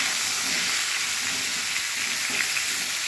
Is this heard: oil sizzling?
yes